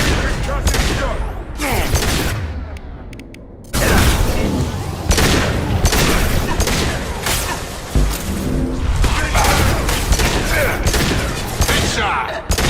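Concussive shot blasts and rapid gunfire from the video game Mass Effect 2, dense and loud throughout with repeated sharp bursts and booming impacts, while voices call out over the battle.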